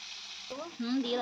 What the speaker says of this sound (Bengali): আর এদিকে দেখতে পাচ্ছেন একটু ভেজে নিচ্ছি তরকারিতে।